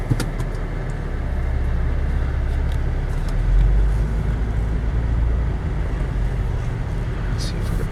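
A 2007 Acura MDX SH-AWD SUV with a 3.7-liter VTEC engine drives slowly through a cone course, giving a steady loud interior engine and road rumble with a brief swell midway.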